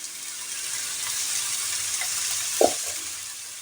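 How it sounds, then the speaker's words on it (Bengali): Watermelon rind curry being stirred in a pan after salt is added: a steady soft sizzle with a single brief scrape of the spoon near the end. "লবণ দিয়ে আবার এটাকে ভালো করে নেড়ে দেব"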